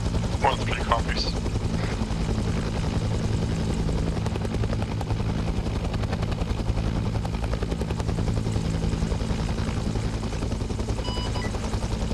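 Helicopter in the ArmA 3 video game: a steady, loud rotor and turbine drone with continuous chopping throb running through the whole stretch.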